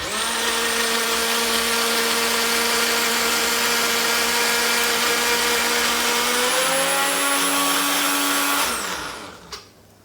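A Ninja blender whipping cream runs loud and steady, its motor whine holding then shifting pitch as the cream thickens, before cutting off and winding down near the end.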